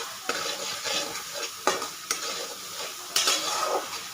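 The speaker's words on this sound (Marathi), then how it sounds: "आणि असं आपल्याला हलवत राहायचं." Moth bean curry being stirred in a pan on the stove for a hotel-style home recipe, with a steady soft sizzle of frying under repeated scraping strokes and a few sharper clinks of the spoon against the pan, close and alone.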